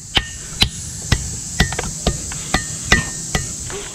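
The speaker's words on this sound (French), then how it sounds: "quand tu tapes un rocher ça ferait un bruit de métal" Rock on the Taraw Cliff trail near El Nido, Palawan, struck repeatedly, giving sharp metallic clinks about twice a second, close and distinct over faint outdoor background.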